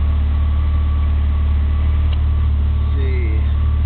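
An E85-converted 1988 Dodge Omni idles just after a cold start, a loud, steady, low engine drone with an even rhythmic pulse and a faint whine near the end.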